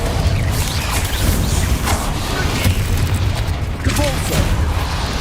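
Confringo fire-spell explosions in the video game Hogwarts Legacy boom repeatedly over dense, rumbling combat noise, loud and close, with crashing impacts scattered through the stretch.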